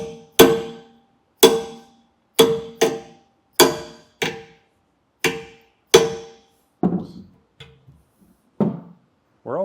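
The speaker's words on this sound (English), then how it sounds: "So we'll try to get it with a hammer." Metal hammer strikes ring out one after another at a steady pace, about ten sharp blows, the later ones duller and quieter, driving a clip onto a B&W Companion OEM 5th wheel hitch in a 2020 Ram 3500.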